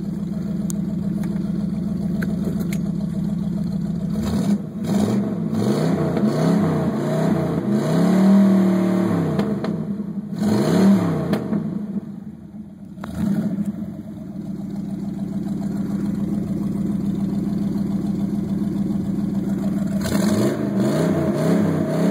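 A 1968 Dodge Dart GT with a 340 V8 idles with a steady, deep rumble, rising through several revs and then settling back to a loping idle, loud and close throughout.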